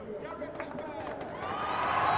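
A crowd at the Hockenheim race track for a DTM race, its cheering swelling from a low roar into a loud eruption, under excited commentary.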